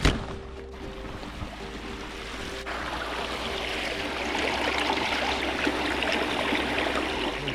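Water running at a built water source along the Appalachian Trail, a steady moderate trickling flow that grows slightly louder and continues without talk.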